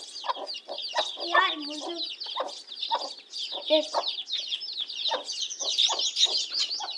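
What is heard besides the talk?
chickens clucking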